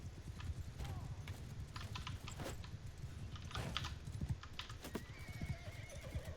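Horse hooves clip-clop steadily through a battle in Mount and Blade 2 Bannerlord, with whinnies and scattered clashes in the game mix and keyboard typing clicking over the top.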